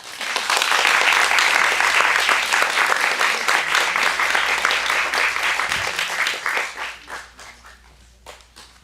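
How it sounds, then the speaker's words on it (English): Audience applause at a storytelling event: dense, loud clapping from a full room that holds steady for several seconds, then thins out into scattered claps near the end. "Please give another round of applause for Lavina."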